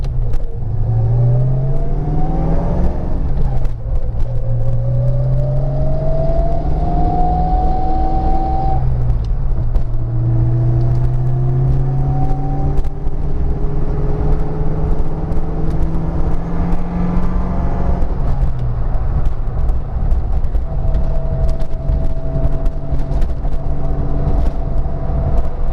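A car geared with 3.73 gears accelerates hard on the freeway, heard from inside the cabin. The engine note climbs repeatedly, breaking at each gear shift before rising again over a constant loud road roar.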